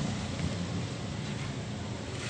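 Steady heavy rain hisses continuously with a low rumbling undertone, dense and unbroken throughout, no voices.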